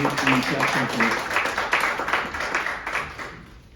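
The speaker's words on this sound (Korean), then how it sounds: "큰 박수 부탁드리겠습니다." An audience at a press conference claps in a short burst of brisk, scattered applause, moderately loud and close, tapering off after a few seconds with voices faintly present.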